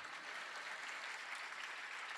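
Audience at a religious discourse in Pune clapping, a faint, even wash of many hands heard from a distance with no talk over it.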